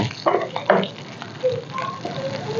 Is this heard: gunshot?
no